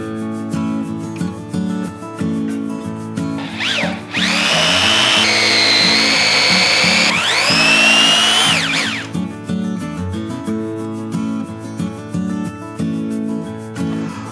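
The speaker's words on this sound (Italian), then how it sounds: "Ok, procediamo a forare." Power drill boring through pieces of wood for a small DIY canopy, a loud whirring motor burst of about four seconds that rises in pitch as the bit cuts, set amid background music and light handling noise.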